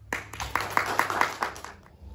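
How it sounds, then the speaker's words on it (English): Applause at a school assembly for newly inducted student prefects: scattered, fairly light hand clapping with a few distinct claps standing out, fading toward the end. "Let's give our prefects a big clap."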